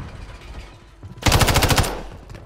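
Rapid automatic assault rifle fire in a video game, a loud sustained burst lasting about half a second up close, with quieter game ambience before and after.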